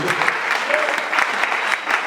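A church congregation applauding, a dense, steady wash of clapping that fills the space evenly from start to finish, loud and close.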